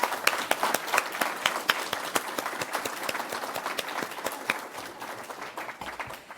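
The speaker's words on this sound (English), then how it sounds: "let's give a round of applause to the Yarmouth County Learning Network" Scattered applause at the Nova Scotia Digital Inclusion Awards for the Yarmouth County Learning Network, individual sharp claps standing out clearly, strong at first and gradually thinning toward the end.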